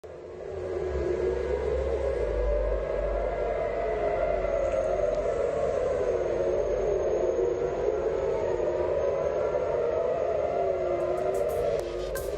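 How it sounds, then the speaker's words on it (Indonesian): Air raid sirens wail across Tel Aviv at night during a ballistic missile alert, a continuous rising and falling tone that sounds steadily throughout, heard alone without speech. "Suara sirene pun bergaung di penjuru kota Tel Aviv Jumat malam waktu setempat."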